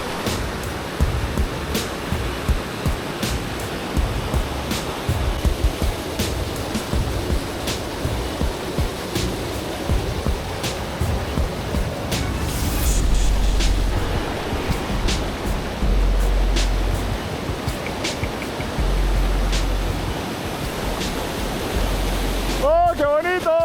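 The Cascada de los Vientos waterfall rushes in a continuous, dense roar heard on a trek, steady throughout with scattered footsteps and small knocks, and a voice faintly breaking in at the very end.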